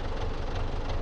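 A Belarus MTZ 80 tractor engine in Farming Simulator 19 runs as a steady, dense, loud diesel drone with a low rumble, constant and unbroken with no voices over it.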